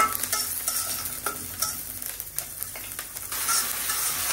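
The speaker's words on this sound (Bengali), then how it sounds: "এই যে পেঁয়াজটা আর ডালের বড়াটা ভাজা হয়েছে" Onion and black gram lentil dumplings fry and sizzle in a pan while being stirred, a steady hiss with scraping stir strokes, close and without talk.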